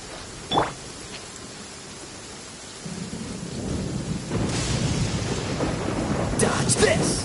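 Rain falls steadily in a video game, growing heavier and louder partway through, with a sharp early crack and later rumbling thunder over the constant wash.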